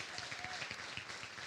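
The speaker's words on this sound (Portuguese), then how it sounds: "Vamos aplaudir o Senhor?" A church congregation applauds during a worship service, a brief, quiet, steady wash of clapping heard at a distance.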